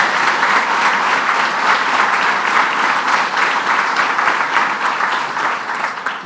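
A large audience at a Governor Cuomo announcement for the $10M Central New York regional award bursts into loud, sustained clapping that holds steady throughout and tails off slightly at the end.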